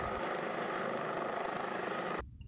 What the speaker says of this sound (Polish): śmigłowiec wyrusza na inne poważne zdarzenia, takie jak wypadki drogowe czy do pacjentów w stanach zagrożenia życia